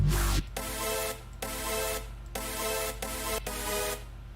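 A synth sound in music production software plays a sustained chord that pulses in three or four even swells over a low steady bass, fairly quiet and with no voices.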